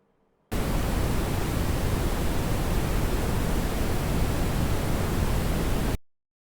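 Steady, even broadband noise from an Eqkit SG-10 noise generator kit set to brown noise starts abruptly, holds at constant loudness for about five and a half seconds, then cuts off.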